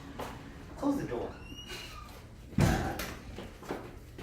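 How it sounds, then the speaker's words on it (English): A door closes with a single thud partway through, set against a quiet room with faint background talk and other low sounds around it. "Close the door."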